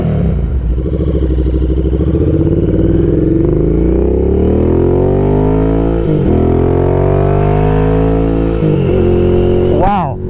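Royal Enfield Interceptor motorcycle fitted with an S&S Qualifier 2-1 exhaust, revving loud and close with rising and falling engine pitch throughout, a couple of brief throttle blips near the end.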